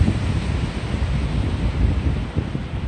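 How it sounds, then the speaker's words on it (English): Strong wind blows through very large trees outside a house, a steady, loud, roaring rush with gusty swells and heavy buffeting on the microphone. No one speaks. "Look how windy it is today."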